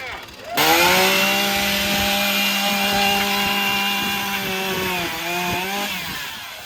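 Chainsaw powered by fuel made from plastic waste, running steadily at high revs with a brief rev dip near the end, loud and close at an outdoor meet-up.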